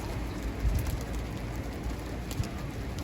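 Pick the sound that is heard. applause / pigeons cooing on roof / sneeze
pigeons cooing on roof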